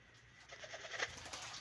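Racing pigeons bathing give soft, close cooing that swells briefly in the middle, over a quiet background.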